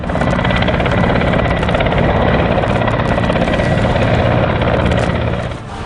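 An army helicopter hovers overhead, its dense rotor and engine roar loud and steady throughout with no talk, easing slightly at the very end.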